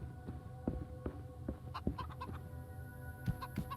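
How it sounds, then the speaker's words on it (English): Chickens cluck and squawk in the video game Minute of Islands, scattered faint calls and short clucks sounding steadily over a soft ambient background. "Oh, good. The chickens are in here."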